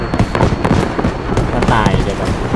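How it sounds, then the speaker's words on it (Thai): Explosions and battlefield blasts in Battlefield V, dense, loud and continuous, with a person talking excitedly over them throughout. "เฮ้ยระเบิด"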